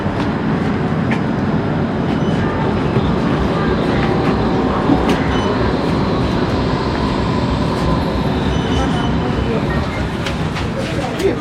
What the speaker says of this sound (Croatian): Evo je konačno ulazi u tramvaj.